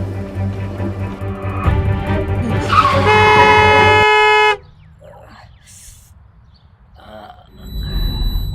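A car horn blares loud and close in one long sustained blast lasting about four seconds, then cuts off, leaving quieter street sounds.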